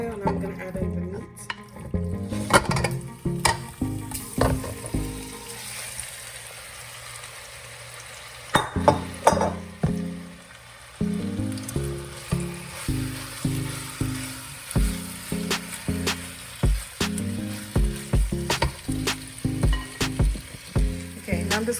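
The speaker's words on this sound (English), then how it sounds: "I'm putting some olive oil, and I'm gonna add in the meat" Beef browning in olive oil in a pot for a stew, loud close sizzling and frying broken by repeated scraping stirs, with a brief quieter stretch midway before the sizzle and stirring resume.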